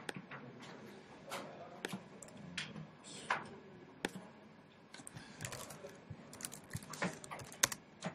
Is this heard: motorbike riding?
no